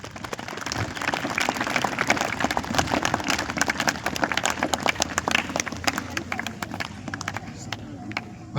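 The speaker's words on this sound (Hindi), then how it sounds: "उन सब के लिए भी आप जोरदार तालियां बजाएं।" Audience applause at a Republic Day school gathering, sustained crowd clapping at steady loudness for several seconds before thinning out toward the end.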